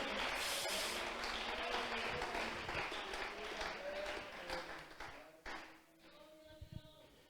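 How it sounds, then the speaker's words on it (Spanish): Church congregation applauding during an evangelical service, a full round of clapping that stays steady before thinning out near the end as voices begin to come through. "que lo puedan aplaudir con toda la fuerza de su corazón"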